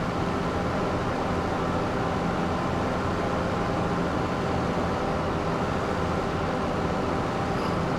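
Tractor pulling a trailer in Farming Simulator 25, a steady broadband engine and rolling drone that continues evenly throughout, with no voices.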